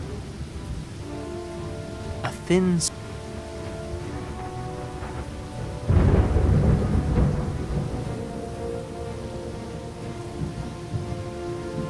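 In a video game, steady rain patters throughout while a deep roll of thunder swells up midway and fades; a brief faint voice is heard early on.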